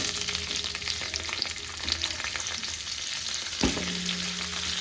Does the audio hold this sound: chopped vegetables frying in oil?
yes